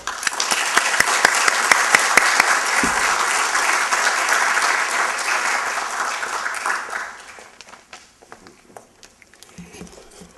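Audience applause welcoming a lecturer to an annual university lecture, dense clapping across a hall for about seven seconds, then fading to a few scattered claps and small rustles.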